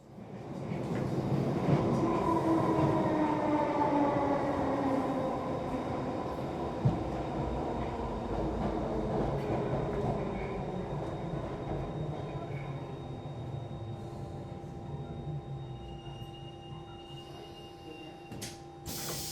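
An underground train running, a steady loud rumble with screeching rail tones that slowly fade as the car rolls on, alone without voices.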